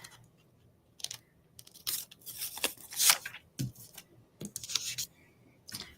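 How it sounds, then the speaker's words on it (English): Scissors snipping a paper flower out of cardstock, a series of short crisp cuts in irregular bursts with brief pauses between, close and fairly quiet. "So I'm going to cut out this flower"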